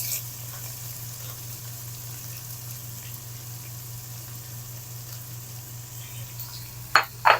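Chopped onions fry in a pan of hot oil with cumin seeds, a steady soft sizzle running throughout, ending with a couple of brief clanks from a spoon against the pan.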